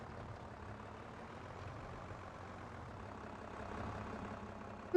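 A Valtra farm tractor engine runs at a steady idle throughout, a constant low rumble with no talking.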